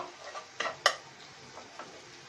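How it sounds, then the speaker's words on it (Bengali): Garlic and ginger being stir-fried in a pan for a Bengali fish roe bhuna, with quiet scraping strokes and a sharp metallic tap of the spatula, faint and intermittent over a soft sizzle. "এখন আমি এটা ভালো করে কষিয়ে নেব"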